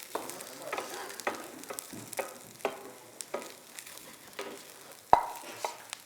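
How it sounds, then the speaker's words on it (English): A knife slices steak into pieces on a cutting board, making a series of irregular sharp, close cutting taps over a faint cooking hiss, with one louder knock near the end. "I'm just going to slice the steak into pieces"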